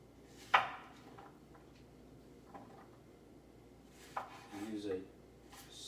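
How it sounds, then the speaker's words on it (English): A knife chops vegetables on a board for a vegan stir fry: one sharp close chop early, then a quiet stretch, then a few more cuts and a brief scraping run near the end, fairly faint overall. "If you have good knives, you just let the knife do the cutting."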